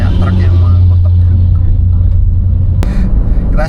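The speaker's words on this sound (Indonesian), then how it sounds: "Kita sudah melewati satu truk penghambat jalan" A truck is overtaken on a winding road between Malang and Trenggalek, heard from inside the passing vehicle as a loud, steady low engine rumble with road noise and a brief sharp sweep near the end; voices talk over it.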